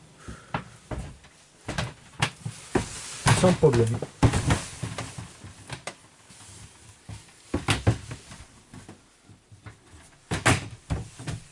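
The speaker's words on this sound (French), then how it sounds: "on déverrouille et on peut utiliser la porte et la douche" Door of a Dreamer D55 Up camper van unlocked and swung open, a series of clicks, latch knocks and thuds, with someone talking between the sounds.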